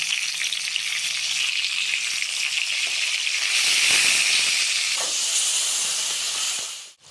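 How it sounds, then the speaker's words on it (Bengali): Tomato sizzles and hisses as it fries in hot oil for a Bengali fish curry with potato and eggplant, a steady loud crackle that swells midway and then fades out, with no voices. "তেলটা গরম হয়ে গেলে টমাটোটা দিয়ে দিলাম"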